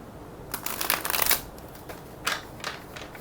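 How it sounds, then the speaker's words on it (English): Tarot cards shuffled in bursts of crisp riffling: one long flurry, then two shorter ones after a pause, close and moderately loud with no talking. "let me refresh shuffle one time"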